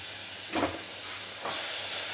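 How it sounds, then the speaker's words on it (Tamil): Banana stem goes into a pan of sautéed onion and tomato, giving a steady close sizzling hiss that swells in two brief surges. "இப்போ தண்டை இதில் போடுறேன்."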